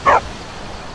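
A dog in the video game Skyrim gives a single short, sharp bark, close and clear, followed by quiet background ambience.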